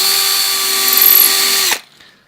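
A power drill bores a pilot hole through overlapping wooden laps for a copper rivet. The steady high whine runs for under two seconds, then cuts off sharply and spins down, loud and close.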